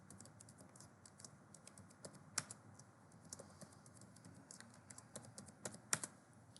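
A new password typed on a computer keyboard, quiet irregular key clicks in short bursts with a few sharper taps, close and faint with no talking.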